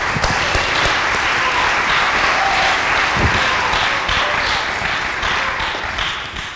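Loud, sustained applause from an audience at a moot court finals round, a dense wash of clapping that holds steady throughout and fades slightly toward the end.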